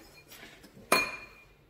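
A spoon mixing a dry rub of smoked paprika and black pepper in a bowl for lamb brisket gives one sharp, close clink against the dish, with near silence before and after.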